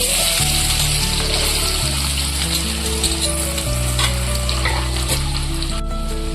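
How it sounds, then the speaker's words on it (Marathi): Steady, loud sizzling of potatoes frying in hot oil, continuous throughout, with a low humming tone underneath. "तेल गरम झालं आहे, बटाटा टाका।"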